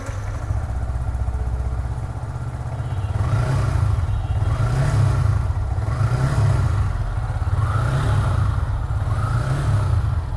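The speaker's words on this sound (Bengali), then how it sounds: "ইঞ্জিনের সাউন্ডটাও কিন্তু আপনারা একটু সাউন্ডটা শুনি বন্ধুরা" The engine of a used motorbike, parked at a second-hand bike shop, runs close by with a steady low throbbing idle and a few gentle rises in revs, loud and continuous with no talk.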